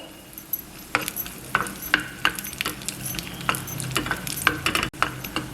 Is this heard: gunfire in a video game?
no